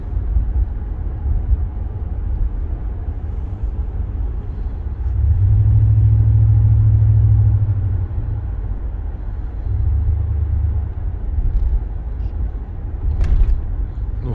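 A Chevrolet Caprice Brougham driving through city traffic, heard from inside the cabin as a steady low rumble of engine and road noise that swells in two longer surges, with brief talk.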